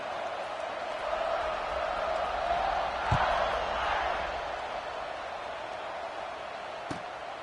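A large football stadium crowd roars steadily as the kickoff approaches, a broad, sustained wash of distant voices with a couple of sharp thuds mixed in.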